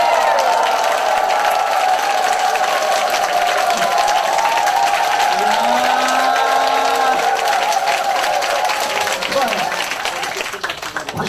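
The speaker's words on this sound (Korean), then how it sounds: "자, 환호성에 박수!" A seminar audience breaks into sustained cheering and applause, a dense wash of clapping and voices heard up close that tapers slightly at the end, with tonal vocal shouts layered through it.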